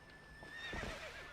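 Epona, a horse in Zelda: Twilight Princess HD, whinnies once, a rising and falling neigh, over a faint steady background tone.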